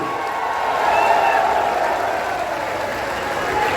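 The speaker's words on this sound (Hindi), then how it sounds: "राजा साहब जोर से ताली बजाओ कीर्तिवर्धन सिंह के लिए" A large open-air election rally crowd applauds and cheers for a parliamentary candidate, producing a dense, steady roar of many hands clapping mixed with shouts. It holds at an even, loud level throughout, with no single voice standing out.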